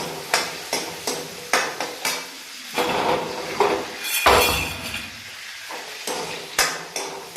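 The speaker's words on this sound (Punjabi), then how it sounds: "ਫੁੱਲ ਮਖਾਣੇ ਜੀ ਇਹਨਾਂ ਨੂੰ ਆਪਾਂ ਫਰਾਈ ਕਰ ਲਾਂਗੇ" Fox nuts (makhana) fry in a pan for homemade prasad, with a steady sizzle under rhythmic scraping and stirring, utensil knocks against the pan, and a brief louder clatter midway.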